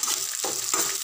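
Sliced onions and curry leaves sizzle in a pan of hot oil for vegetable rava kichadi, a dense, continuous frying hiss heard up close for a moment.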